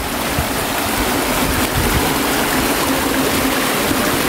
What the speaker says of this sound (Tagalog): So ito yung ilog mga kuha